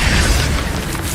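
The Incendio fire spell goes off in Hogwarts Legacy as a short, loud, dense whoosh of flame with a deep rumbling boom, filling the moment with no pauses.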